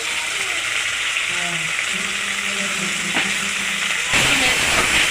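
Soaked, drained moong dal tipped into frying spices in a pan, a loud steady sizzle that surges into a stronger hiss near the end, with a voice heard faintly underneath.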